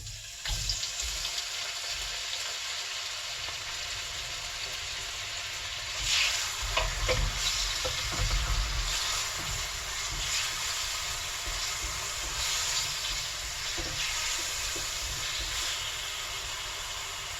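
Tomatoes fry in olive oil with a continuous close sizzle and crackle that swells in the middle. Occasional stirring and scraping sounds come through, with no talking.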